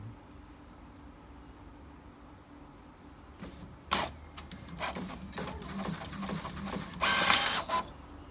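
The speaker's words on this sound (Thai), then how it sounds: "แล้วก็เดี๋ยวผมจะลอง ปริ้นออกมาดูนะครับ" A Brother MFC-J415W inkjet printer printing a page after its print head was cleaned: quiet mechanical whirring first, then louder rhythmic clacks and feed motor buzzes as the carriage moves.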